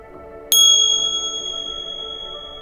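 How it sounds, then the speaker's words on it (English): Tibetan chimes, two metal pieces joined by a leather strap, struck together once: a single bright metallic ring over a faint hum that hangs and slowly fades. "And when you hit the two pieces together, it makes a beautiful chime sound."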